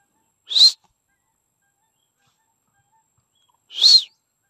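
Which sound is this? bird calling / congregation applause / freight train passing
bird calling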